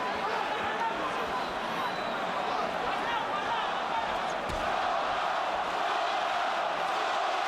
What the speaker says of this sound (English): Puerto Rican crowd begins to chant for the man.